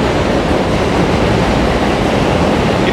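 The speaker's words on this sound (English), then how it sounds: "this is the 7 train, AKA known as the International Express" The New York 7 subway train thunders past on the elevated line in Queens, a loud, continuous roar of wheels and rails very close by that drowns out everything else.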